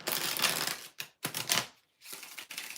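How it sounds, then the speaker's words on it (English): Tarot cards being shuffled in bursts of rapid riffling clicks, three or four close, crisp runs split by short silences, with no voices. "We're going to do 5 shuffles for Sully Girl."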